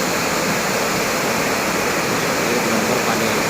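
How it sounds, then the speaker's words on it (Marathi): Water released from a full dam pours down in a loud, steady roar, a continuous broadband rush with no breaks and no voices over it. "पाणी पण असं सोडलं आहे आता वरून."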